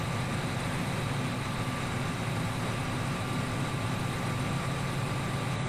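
A John Deere tractor engine idles in Farming Simulator 15, a constant low mechanical drone at even loudness throughout, with no talk over it.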